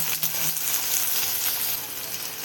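Mustard seeds, cumin and chopped onions sizzle and fry in a hot wok, a close, steady crackling hiss with no talk over it.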